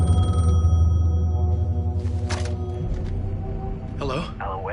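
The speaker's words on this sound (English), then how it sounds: "The phone was ringing." A telephone rings in the Alan Wake 2 video game, a steady electronic tone over low droning ambience with faint rustling bursts toward the end.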